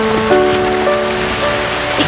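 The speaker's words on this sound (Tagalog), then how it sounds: "Baka gusto niyo ho muna magpatila ng ulan." Steady rain falls on a surface in a continuous, even hiss, with faint tonal hum running underneath and no voices.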